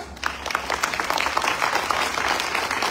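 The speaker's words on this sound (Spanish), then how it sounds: "recibámoslo con fuertes aplausos" Applause from the audience at a homage event for Gabriel García Márquez as a speaker is welcomed, a dense, steady wash of many hands clapping close up, with no voices.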